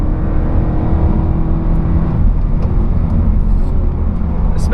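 Race car engine pulling hard on a wet, cold Nürburgring Nordschleife lap, a loud steady onboard drone with rising revs and road roar throughout, no voices.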